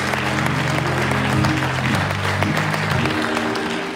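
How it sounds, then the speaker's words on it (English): Church congregation clapping hands in praise, a steady dense wash of claps over sustained organ or keyboard tones, with some voices mixed in throughout. "Give the Lord a great big hand clap of praise."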